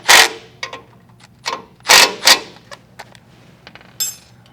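A wrench works bolts tight on a Tilmor 520 tractor during an oil drain plug install, giving a few sharp metallic clanks and ratchety clicks, close and separated by quiet pauses.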